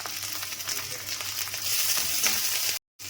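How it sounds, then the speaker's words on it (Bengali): Cumin seeds, two dried red chillies and a bay leaf tempering in hot oil give a steady, close sizzle and crackle that runs throughout, then cuts out abruptly near the end before resuming. "ফোড়নে দিয়ে দিচ্ছি জিরে, দুটো শুকনো লঙ্কা, একটা তেজপাতা"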